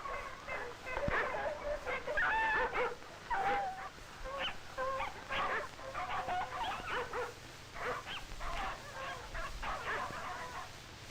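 Sled dogs hauling a sled in Alaskan snow yelp and howl in a busy chorus of overlapping cries, fairly loud and continuous over faint background noise.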